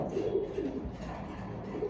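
Pigeons kept in a cage cooing softly and repeatedly at close range, a low murmuring coo over a quiet background.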